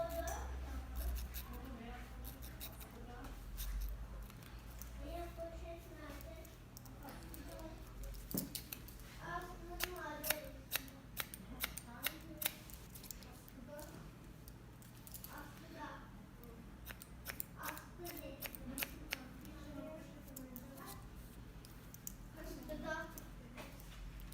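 Scissors thin only the ends of the hair during a short bob haircut, producing soft, repeated snipping clicks near the ear. Someone talks steadily over the cutting throughout.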